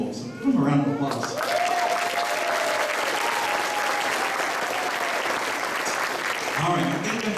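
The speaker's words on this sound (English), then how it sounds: "So give them a round of applause." A school band concert audience breaks into loud, full applause for the band students, sustained and dense for several seconds, with a voice talking briefly before it starts and again as it fades.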